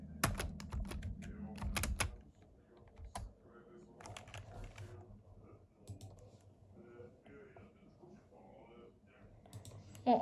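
Computer keyboard typing during Roblox Pet Simulator play: a dense burst of clicky keystrokes in the first two seconds, then sparse, quieter taps scattered under background game and room noise.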